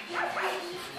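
A small dog gives short, high yipping barks, two quick rising calls close by, with a faint steady hum underneath.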